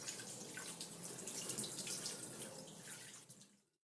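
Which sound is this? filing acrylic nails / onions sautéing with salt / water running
water running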